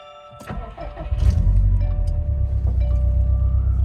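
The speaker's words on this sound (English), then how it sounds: "So let me turn on my car." A Subaru WRX STI engine cranks briefly, catches and roars to life, then settles into a steady, loud idle close by.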